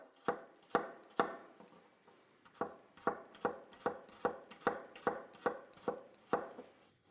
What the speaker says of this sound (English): Then we place it on the cut side and just slice it into thin pieces here.